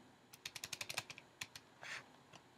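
Computer keyboard keys tapped in a quick run of about a dozen crisp, close clicks, then a short pause, a few more isolated presses and a brief rustle, with no talking.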